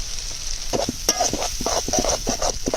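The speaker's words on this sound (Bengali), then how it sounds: "মশলাটা সুন্দরভাবে কষাই নেব।" Spice paste of ground turmeric, chilli, coriander, cumin and green chilli paste with dried chillies, stirred and frying in a pan for chicken kosha: steady close sizzle with a rhythmic series of spoon scrapes, no talking.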